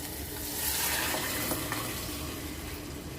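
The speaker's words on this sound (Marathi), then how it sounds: "मग आपण डाळ फोडणी घालू" Hot tempering poured into cooked dal for a Maharashtrian veg thali, giving a brief burst of sizzling and bubbling hiss that swells and then settles over about three seconds, close and without talk.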